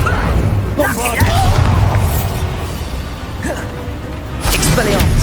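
In Hogwarts Legacy, a Bombarda blasting spell goes off with booming bursts and crashing impacts in the middle of a fight, while game voices call out over the noise.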